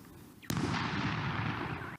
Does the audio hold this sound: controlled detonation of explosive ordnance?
yes